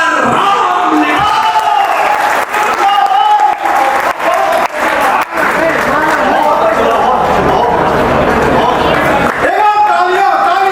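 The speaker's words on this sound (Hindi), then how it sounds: "तालियां तालियां तालियां" A crowd applauding and cheering at an Independence Day celebration event, loud and sustained for about ten seconds, with shouts and voices mixed into the clapping.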